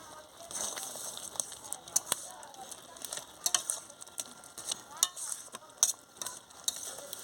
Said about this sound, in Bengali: ডালটা একটু ভালো করে নেড়ে দিচ্ছে